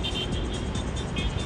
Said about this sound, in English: They have a tuk-tuk.